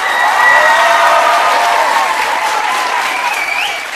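Applause for the first television programme made in the European Schools, steady and fairly loud throughout, with a crowd's murmur and cheering tones mixed in, easing slightly at the end.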